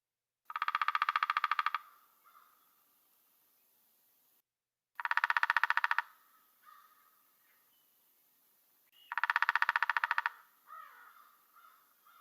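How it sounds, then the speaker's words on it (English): Woodpecker drumming rapidly on a tree trunk: three separate bursts of fast, even tapping, each lasting a second or so and spaced a few seconds apart, clear and isolated against near silence. "The woodpecker makes that drumming sound by tapping rapidly on the trunk of a tree"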